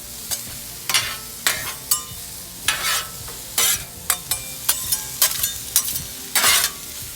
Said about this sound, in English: And I love sauteed onions.